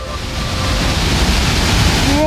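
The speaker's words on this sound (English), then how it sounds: "This waterfall is massive. So much water falling at one time." Elk Falls, a massive waterfall on Vancouver Island, roars as a steady, dense wash of broadband noise that swells slightly, loud and close with some wind buffeting.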